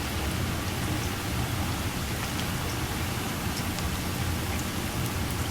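Banana slices frying in hot oil for banana chips, a dense, steady crackling sizzle that stays loud and even from start to end, with no voices.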